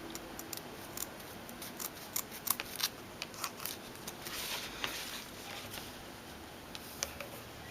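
Scissors snip the end of a ribbon bow on a handmade wedding invitation at a slant, giving a string of small crisp clicks and short rustles, close and quiet, with no talking.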